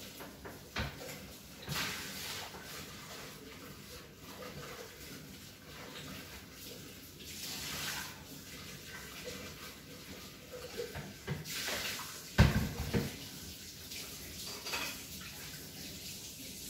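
Water runs while a Thermomix bowl is rinsed in a kitchen sink, with intermittent splashing bursts and clinks of the metal bowl against the basin.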